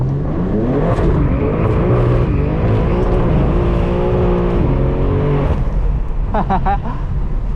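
A BMW M4 Competition with an aftermarket exhaust revs and roars continuously with shifting pitch, ending in sharp crackling pops from the exhaust; a voice is heard briefly.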